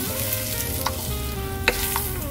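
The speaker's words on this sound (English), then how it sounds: "And now the broccoli. I want you to stir that first." Broccoli being stirred into a cornstarch slurry in a slow cooker, a steady wet scraping and stirring with a few sharp utensil clinks against the crock, close and moderately loud.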